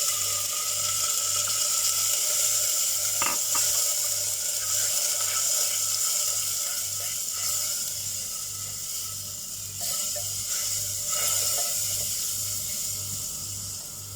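Water poured into a pan of dry spices while making spinach rice sets off a steady, loud sizzle and hiss that runs without a break across the whole stretch, over a faint low hum.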